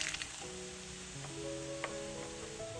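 Onion and three halved dried red chilies frying in oil for a tomato curry tempering, a continuous soft sizzle with a few faint clicks and a low background hum, no speech.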